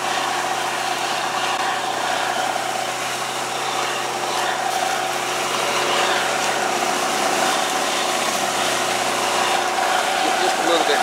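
Engine of a 300-horsepower machine pulling a 7,000-gallon manure tanker on a farm, a loud, steady diesel drone with a constant vibrating hum that runs unbroken through the whole stretch, with no talking.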